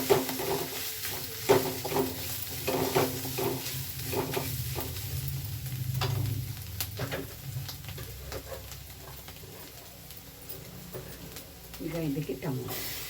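Spinach gravy with garam masala and coriander sizzles in a pan while a spoon stirs it with repeated scraping strokes. A person speaks over the cooking.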